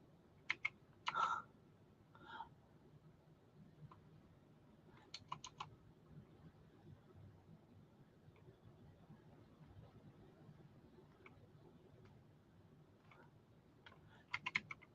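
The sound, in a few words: typing on a computer keyboard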